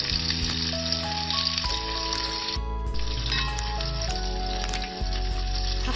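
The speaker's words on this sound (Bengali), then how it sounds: "পেঁয়াজ কুচি, দেখুন তেলের মধ্যে পেঁয়াজ কুচিগুলো হচ্ছে।" Chopped onions fry in hot oil for a spicy fish curry, a loud dense continuous sizzle close up, steady for the whole stretch with no voices.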